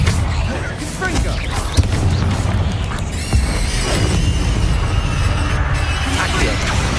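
A Confringo fire spell goes off in Hogwarts Legacy, with blasts and thuds over busy combat noise and a voice speaking.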